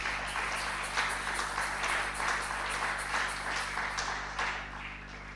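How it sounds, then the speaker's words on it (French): A church congregation applauding, heard as a steady, dense wash of clapping from many hands that fills the whole stretch evenly, with no talking. "Acclamons le Seigneur."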